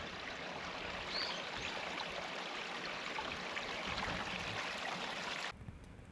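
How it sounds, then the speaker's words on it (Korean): Steady broadband rush of a mountain valley stream flowing over rocks in Gachang, Daegu, continuous and fairly close, with no voices, cutting off abruptly near the end. "잠시 물소리도 영상에 담고 갑니다."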